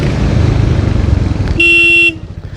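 A Royal Enfield Hunter 350 motorcycle thumps at close range with a pulsing exhaust note, then a bright, steady horn honk sounds for about half a second before the engine rumble returns.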